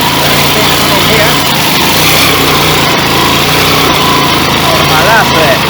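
A 150cc motorcycle running on a 125cc carburetor labors uphill on muddy ground, its light engine droning loud and steady throughout, with speech faintly mixed in.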